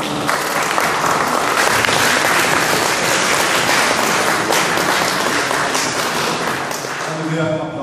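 Audience applause at a panel discussion, a long, loud, dense wash of clapping that holds steady for several seconds before thinning out at the end.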